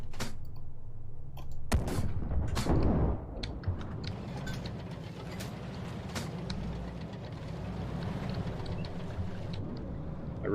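Artillery shells burst nearby in the tank game GHPC, a heavy boom with a few sharp cracks, then a low continuous engine rumble under scattered faint ticks and clanks.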